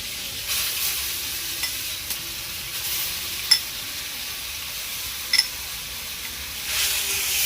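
Bottle gourd pieces frying in ghee with torn bay leaves and cardamom, a steady bright sizzle with occasional spatula clinks and scrapes against the pan as it is stirred.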